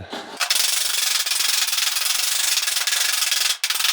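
Steady back-and-forth rasping of sanding on a car body panel, close and continuous with a rhythmic scrubbing pulse and a brief pause near the end.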